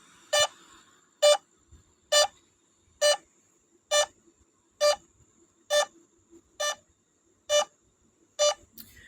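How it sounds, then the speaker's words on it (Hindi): A series of ten loud, evenly spaced electronic beeps from a DJI Mavic Air 2 drone's locator, each a short burst, repeating roughly once a second with quiet gaps between. "ये इस तरह से बीप करना स्टार्ट कर देगा तो आप जान जाएंगे कि हाँ मेरा ड्रोन"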